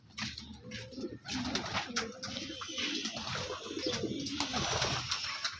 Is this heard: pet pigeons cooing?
yes